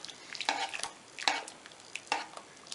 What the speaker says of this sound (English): I'm stirring in the 2/3 of a cup of rice and a tablespoon of garlic.